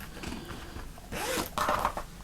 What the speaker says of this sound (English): When I come to my zip slider, I'm going to just move it out the way.